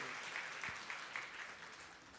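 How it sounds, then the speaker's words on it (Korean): A church congregation applauds during a Sunday service, with soft, distant, even clapping that fades slightly over about two seconds. "자, 우리 박수로 환영해 주시기 바랍니다."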